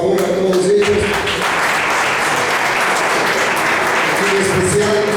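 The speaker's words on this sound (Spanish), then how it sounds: "otro aplauso, por favor, a todos ellos" An audience at a conference applauds the players, a dense, loud wash of clapping with voices briefly heard at the start and end.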